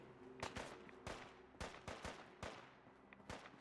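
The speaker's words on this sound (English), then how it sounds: "There's a lot of shooting going on." Rapid bursts of gunfire in Fallout 4, roughly a dozen sharp reports scattered irregularly over a steady low hum, fairly loud and close, with no talking.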